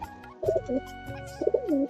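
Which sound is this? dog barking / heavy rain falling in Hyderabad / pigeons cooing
pigeons cooing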